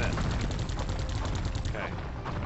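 Rapid automatic gunfire from the video game Geist, a dense continuous burst of shots filling the moment, loud and close.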